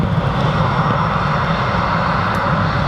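EasyJet airliner departing Manchester Airport in poor weather, a close, loud, continuous jet engine roar with a steady rumble and hiss, no voices.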